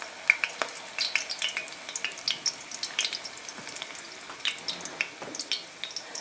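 Plantains fry in a skillet over medium-low heat, giving a close, steady sizzle with frequent crackling pops and spits throughout, no talking.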